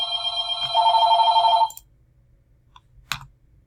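A telephone rings loudly with a bright, warbling electronic tone for under two seconds, then cuts off into near silence, followed by a couple of faint clicks.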